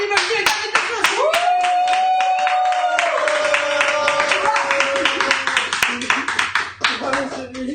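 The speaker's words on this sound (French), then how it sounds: "Faites un tonnerre d'applaudissements mon équipe à Stubby Bugsy et David Desclos." A studio audience claps in a steady burst as guests enter a TV show set, with voices and a sustained tone sounding over the applause.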